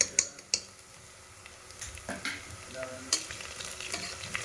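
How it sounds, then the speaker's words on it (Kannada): Ginger garlic paste and onions frying in a pan, a soft steady sizzle with a few sharp clicks of a spoon stirring against the pan. "ಇವಾಗ ಇದಕ್ಕೆ ಶುಂಠಿ ಬೆಳ್ಳುಳ್ಳಿ ಪೇಸ್ಟ್ ಸೇರಿಸ್ಬಿಟ್ರೆ ಜೊತೆಯಲ್ಲಿ ಒಟ್ಟಿಗೆ ಫ್ರೈ ಆಗುತ್ತೆ"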